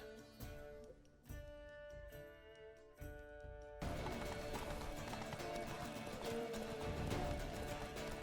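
Horse hooves clip-clop at a run in the Wild Hunt video game, with a whinny and game music partway through, then a dense, louder rush of galloping and clatter filling the rest.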